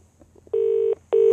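Two steady telephone tones sound in sequence after a soft murmur: the first about half a second long, the second starting after a short pause and continuing to the end, loud and close.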